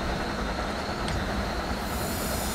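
A long special holiday passenger train of eight cars rolls along the rails under braking, a loud, close, continuous rumble and roar without talk.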